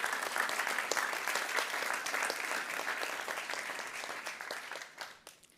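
A room full of people claps at a kick-off event for a waste challenge, brisk continuous applause at moderate distance that holds steady, then thins and fades out over the last second.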